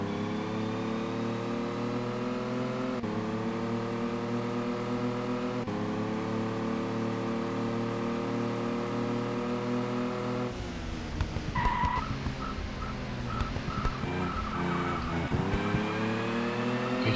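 Race car engines in the game TOCA World Touring Cars, a steady loud high drone that shifts pitch with gear changes, then a burst of tire skidding and revving before the engine note settles again.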